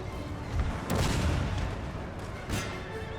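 Cannons and artillery fire in the Napoleonic-era strategy game Total War: Napoleon, with a few muffled distant booms over a constant battle rumble.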